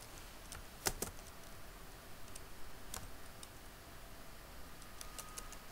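Keys clacking on a computer keyboard while code is entered, with a couple of sharper louder strokes near the start and scattered lighter taps after, close and quiet with no talking.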